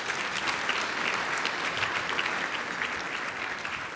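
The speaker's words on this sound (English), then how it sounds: "So give him a round of applause for all the great job he's done." Audience at a leadership talk applauds Jim for his work; steady, dense clapping from a sizable crowd continues evenly throughout at moderate volume.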